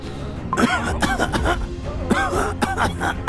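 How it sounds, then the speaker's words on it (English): Harsh throat clearing and rough coughs come in a few bursts, close and loud, with a low rumble of background noise. "Their dough is turning white, and they're coughing up flour."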